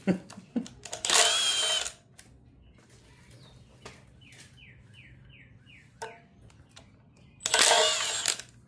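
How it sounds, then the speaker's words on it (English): A power tool whirs in two short, loud bursts while the timing cover comes off a 1990 Chevy 350 V8 engine, with quieter clicks and birds chirping in between. "Next, I'm going to be pulling off the timing cover."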